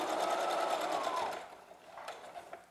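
A sewing machine runs a steady stitching burst down a cloth tie on a fabric face mask, then slows and stops, followed by a few soft handling clicks.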